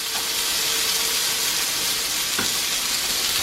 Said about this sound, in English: I got my refried beans stirring up.